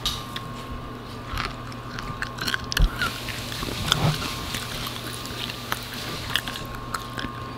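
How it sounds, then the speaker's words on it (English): Crunchy snack pieces coated in oil and salt are chewed right at the microphone, with irregular close bites and crunches over a faint steady background hum. "Just put a bunch in your mouth and kind of crunch down on them."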